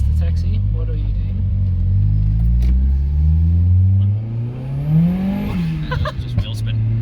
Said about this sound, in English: Just wheel spin.